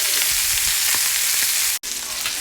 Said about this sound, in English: the last batch of ribs are now in the skillet